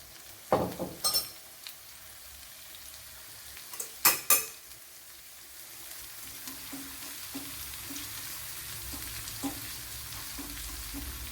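Crushed mustard seeds go into hot coconut oil and sizzle softly and continuously, after a few sharp clinks of a spoon against the pan early on.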